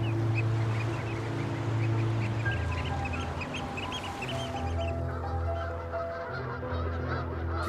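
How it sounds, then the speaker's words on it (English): A flock of Canada geese honks loudly while taking off from the Nevern estuary in Pembrokeshire, many overlapping calls in a steady clamour with wingbeats and water noise beneath. "These Canada geese are taking off on the Nevern estuary in Pembrokeshire."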